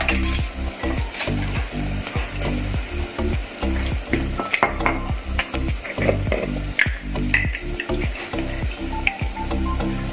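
Turmeric and chili powder are stirred into a sizzling pan for Kerala sadhya-style mulaka pachadi, with a spoon scraping in steady rhythmic strokes through continuous frying noise, close and fairly loud.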